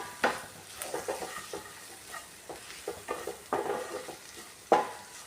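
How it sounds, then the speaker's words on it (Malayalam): Masala spices for a Kerala-style lunch dish being sautéed in a pan, with a steady sizzle under intermittent scraping and stirring clatter of a spoon against the pan, moderately close. "ഇത് നല്ലപോലെ വഴറ്റിയെടുക്കാം"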